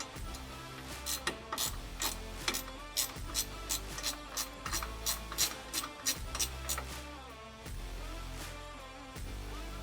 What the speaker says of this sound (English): Then we're going to start fully tightening the hardware.